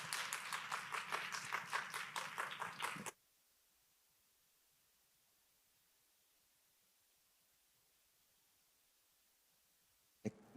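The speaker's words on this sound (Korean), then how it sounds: "목사님 나오실 때 또 격려의 말씀 또 위로의 말씀 잘 전해달라고 박수로 우리 맞이하도록 하겠습니다" Church congregation clapping to welcome the pastor at a Sunday youth worship service, about three seconds of dense, close applause that stops abruptly, followed by near silence.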